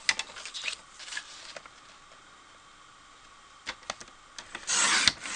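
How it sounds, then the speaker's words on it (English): A paper trimmer cuts cardstock with short scraping strokes and a few light taps, quiet for a stretch, ending in a louder sliding rasp of the blade across the sheet. "we're going to cut a piece that's 3 by 5 with our trimmer"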